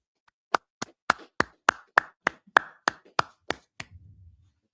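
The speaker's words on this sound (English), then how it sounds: "All right, let's clap it up" Audience clapping in unison at a gathering in Harlem, New York: about a dozen sharp, evenly spaced claps ring out loud and close, then stop, leaving a low murmur.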